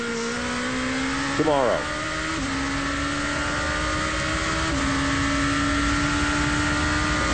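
GP2 race cars at Monza passing at speed during the 2008 race, engines droning steadily with a brief sweeping pass and pitch shifts, all under continuous commentary.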